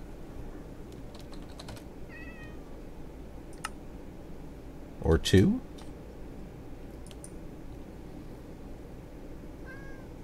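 A Minecraft cat gives a few faint, high in-game meows, early and again at the end, over a low hum, with scattered keyboard and mouse clicks and a brief burst of speech near the middle.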